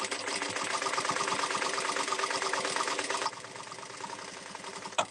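An industrial sewing machine runs in a fast, steady mechanical chatter while free-motion quilting a baby quilt. It slows to a softer run partway through and ends with a short clunk.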